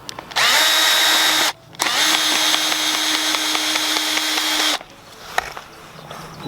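Power drill driving screws into a wooden raised bed, two loud sustained whirring runs broken by a short pause, then quiet handling noises afterward.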